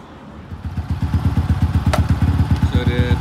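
A Yamaha R25 motorcycle engine idles close by with a rapid, even low-pitched putter that grows slightly louder, with a brief sharp click partway through.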